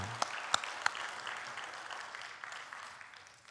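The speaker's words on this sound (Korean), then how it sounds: "귀한 말씀 증거해 주신 우리 김준호 목사님께 큰 박수로 받아가겠습니다." A church congregation at a worship service applauds its pastor, a soft, distant, continuous patter of many hands with a few sharper claps near the start, slowly fading.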